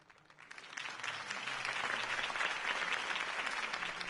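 Crowd applause at a campaign rally in a Batman video game swells from quiet into sustained, dense clapping that carries on steadily to the end.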